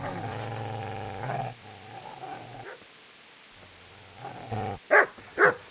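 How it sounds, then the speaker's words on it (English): A dog growls and snarls in Kingdom Come: Deliverance, a low rumbling stretch followed by a couple of sharp, loud barks near the end, close and alone without talk. "Get away, you mutt!"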